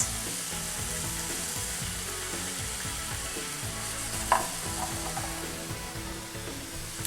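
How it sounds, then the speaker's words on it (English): Sauce sizzles steadily in a skillet of pan-fried tofu with broccolini and shiitake mushrooms, a continuous close frying hiss with a brief clink partway through and no talking. "Then we add the remaining of the sauce to the skillet."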